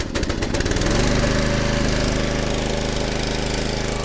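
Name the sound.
wood splitter gas engine running after pull start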